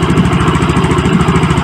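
A Yamaha Mio J scooter engine runs at idle close by, a loud, steady rapid putter with even pulsing firing beats and no talking.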